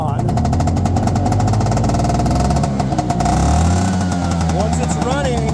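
A motorcycle engine is kick-started with a solid kick and catches, rising into a loud, chugging idle with clattering mechanical noise while someone talks over it.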